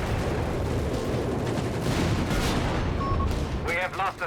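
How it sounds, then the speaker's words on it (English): Battle din from a Company of Heroes 3 match as a Black Prince tank's 17-pounder gun fires on a Sturmpanzer, heavy booms and gunfire layered densely throughout with continuous commentary speech over it. "As Black Prince they engages the Sturmpanzer there with a 17-pounder gun"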